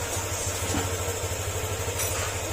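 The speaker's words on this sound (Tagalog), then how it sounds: "standard na tunog ng makina niya" A rebuilt motorcycle engine idles steadily nearby, a low, even putter with a regular pulsing rhythm and no voices.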